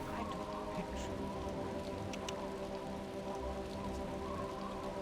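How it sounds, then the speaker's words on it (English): Heavy rain in the video game Mask of 11th Hour pours down loudly and steadily, a dense wash of patter and drops that fills the whole stretch with no break. "I can't even hear him, the rain's so loud."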